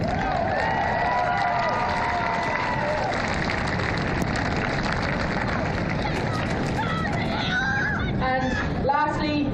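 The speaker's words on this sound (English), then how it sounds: "so a massive round of applause for our management" A crowd at a Clare versus Sligo under-18 final presentation applauds the team management, giving a dense, steady roar of clapping and cheering that carries on for several seconds before a voice begins speaking near the end.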